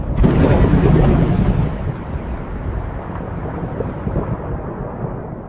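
A heavy thunder crack bursts out loud, then rolls into a long rumbling decay that fills several seconds, set amid a stormy night of heavy rain with nothing spoken over it.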